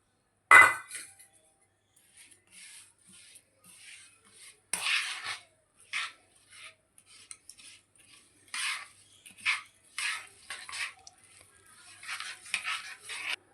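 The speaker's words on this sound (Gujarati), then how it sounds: "આપણે ગોળ દૂધમાં એડ કરી લઈશું અને ગોળને ચમચી વડે ઓગાળી લઈશું" A spoon stirs jaggery into warm milk in a metal pan, giving soft, irregular clinks and scrapes with brief pauses between strokes, close and fairly quiet.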